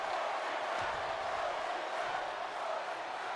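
A wrestling video game arena crowd roars in a steady, dense wall of noise, with a faint chant buried in the din and no distinct voices standing out.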